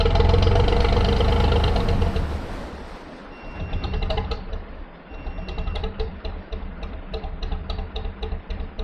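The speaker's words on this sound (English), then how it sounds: "Engine cut out then, that was handy." A narrowboat engine on the Oxford Canal runs loud and rough with a rattling knock, drops away around three seconds in, then returns as a faster, uneven ticking clatter.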